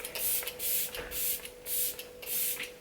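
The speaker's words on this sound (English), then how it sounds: "the Glam Glow Glow Setter Makeup Setting Spray just to set this look in place" Glam Glow Glow Setter makeup setting spray misted from its pump bottle: four or five soft, quick hissing bursts in steady succession, close and fairly quiet.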